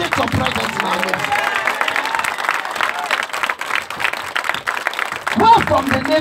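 A congregation claps steadily through a Friday evening church service. The dense, sustained applause is mixed with crowd noise, and a voice rises briefly near the end.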